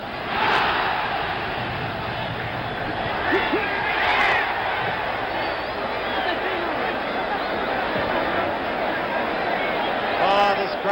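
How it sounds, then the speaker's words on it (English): A boxing arena crowd roars steadily through the eighth round of a heavyweight bout, Foreman versus Young in 1977, a dense, loud wall of cheering and shouting with brief swells near the start and end. "Crowd roars again as Young continues, unafraid, unmarked for that matter."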